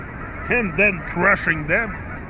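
Honking bird calls come in several close, loud bursts with a rising and falling pitch, spaced unevenly over a couple of seconds against a steady background hum.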